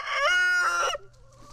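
A chicken in a backyard coop lets out one loud, close, drawn-out crowing cluck that lasts about a second before cutting off to near quiet.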